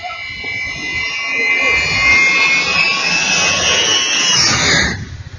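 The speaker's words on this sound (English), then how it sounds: "An airplane just flies by right beside you." An Ilyushin 76 jet aircraft roars past close by at low altitude, its whining engine swelling loudly before cutting off abruptly.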